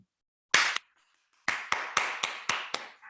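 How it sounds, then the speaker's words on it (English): Isolated, close hand claps: two quick claps, a pause, then a sharp run of about six evenly spaced claps, loud and clean against silence. "give yourself and your family members a round of applause"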